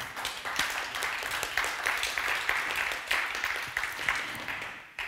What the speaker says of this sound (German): Sie dürfen hier ruhig klatschen.